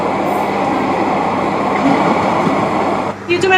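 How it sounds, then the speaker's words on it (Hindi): Slow local train standing at a railway station platform, a loud steady rumble and hum of the idling train with station ambience, and a brief voice near the end. "ट्रेन इधर देख सकते हो आप, लगी हुई है।"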